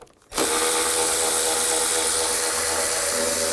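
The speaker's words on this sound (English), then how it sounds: "Loosen that bolt up and slide the cover out." A power tool whirs on continuously, starting abruptly and staying loud and close, while an 8mm socket loosens a radiator cover bolt on a 2000–2013 GMC Yukon; no voices.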